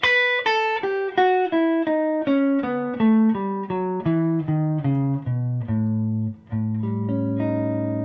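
A clean electric guitar tone runs down a Lydian dominant scale note by note, steady and evenly paced, ending on a long sustained chord.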